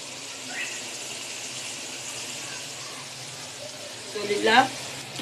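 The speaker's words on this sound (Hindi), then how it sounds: "कचनार को 5 मिनट तक इसकी अच्छी तरह भुनाई करेंगे।" Kachnar buds and minced meat fry in a pan, giving a soft continuous sizzle with a brief louder burst of stirring near the end.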